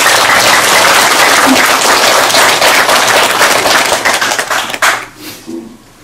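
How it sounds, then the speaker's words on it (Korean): Loud, dense applause from a congregation at a Buddhist temple's celebration of Buddha's Birthday in Canada, sustained and then breaking up into scattered claps as it fades out near the end. "박수 한번 보내주세요."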